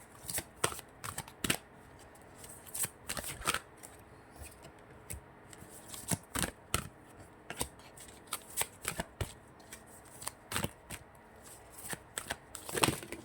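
A deck of cards shuffled by hand in repeated bursts of crisp riffling and snapping, close and fairly quiet, with short pauses between shuffles and no voices.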